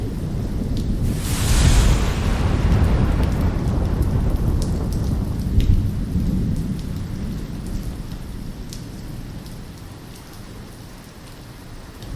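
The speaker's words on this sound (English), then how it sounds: "The storm came in hard from the east" Hard-hitting thunderstorm sweeping in with a deep rumbling thunder roll early on over steady heavy rain that fades slowly toward the end.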